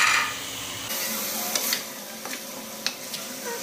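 Whole garam masala spices, including cloves, black peppercorns and a little cumin, sizzle in hot oil in a pot, with a soft steady crackle and a few brief stirring clicks, heard alone and close.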